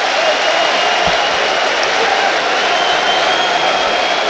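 A football crowd cheers an offside flag at Brighton & Hove Albion against Manchester United, a loud, steady roar of many voices filling the stadium without a break.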